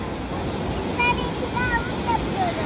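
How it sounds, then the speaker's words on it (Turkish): Large sea waves breaking along a beach, a steady broadband wash of surf with some wind, joined by faint high-pitched tones. "denizde çok büyük bir dalga var"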